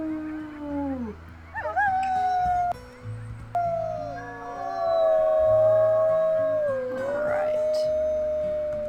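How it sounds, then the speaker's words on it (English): Wolves howl in the game WolfQuest, with several long, gliding, overlapping howls rising and falling over a low game music bed, fairly close and clear. "Let's maybe do a howl just to make sure territory is boosted here."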